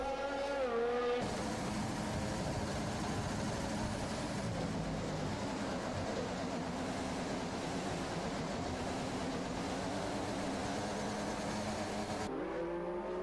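Race car engine in a racing video game held at high revs, a steady loud drone with shifting pitch running continuously with brief changes at the start and end, no talk.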